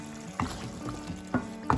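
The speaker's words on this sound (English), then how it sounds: "Stir it well." Chicken karahi with tomatoes and onions sizzles in a pan while a utensil stirs it, a soft steady frying hiss broken by a few sharp scraping clinks.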